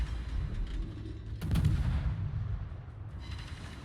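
Naval gunfire from Khabarovsk destroyers in World of Warships, a steady low rumbling barrage with a heavier boom swelling midway, continuous and loud without speech.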